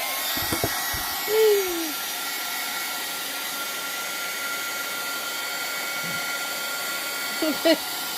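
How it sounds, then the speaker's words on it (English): A heat gun blows steadily at moderate level while drying an altered-paper journal card, a continuous airy hiss running through the whole stretch, with a couple of brief louder bumps and clicks near the start and end. "then drying it with my heat gun"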